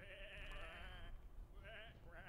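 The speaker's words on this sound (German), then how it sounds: "these are just sheep." Sheep bleating in the video game Whateverland, a couple of wavering bleats close by at moderate volume, one long call then a shorter one, with faint game ambience beneath.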